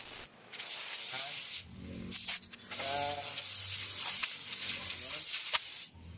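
An air compressor's blow nozzle shoots bursts of air to clear dust, loud hissing blasts broken by short pauses, with someone talking between and over the spurts.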